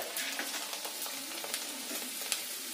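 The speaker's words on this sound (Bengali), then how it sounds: "এইভাবে একে একে বাকি সাবুদানাগুলোকে ভেজে নিতে হবে।" Sago pearls (sabudana) fry in hot oil, a steady dense crackling sizzle with small popping bursts, close and fairly quiet, with no voices.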